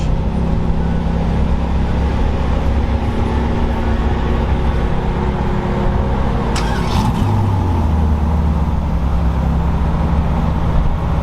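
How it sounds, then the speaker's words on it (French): A Ferrari 812 GTS and a Ferrari 430 arriving at a rally event, a loud, continuous engine drone with a deeper rumble shifting pitch partway through, close and steady with no talk. "Là il y a des Ferrari qui arrivent, Ferrari 812, celui d'une 430, c'est une 812 GTS."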